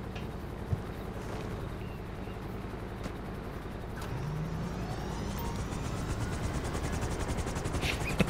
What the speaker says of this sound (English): And is watching your helicopter just fall from the sky.